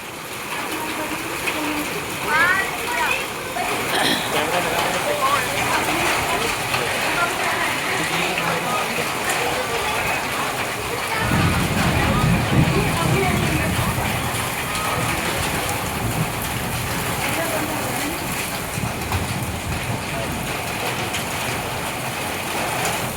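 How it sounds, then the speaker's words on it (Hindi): Hail and rain falling on a road outdoors, a steady dense hiss and patter throughout with a rumbling swell midway; no clear speech stands out. "ओले देखो भाई, बर्फ देखो कैसे होगी"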